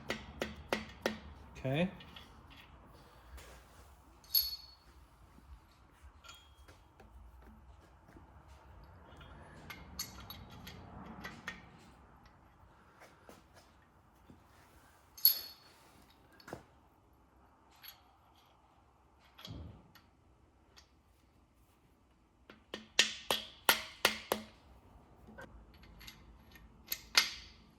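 A small dead blow hammer taps an engine part during short block assembly, with scattered light knocks and sharper clusters of quick taps separated by quiet handling noises; a voice speaks briefly.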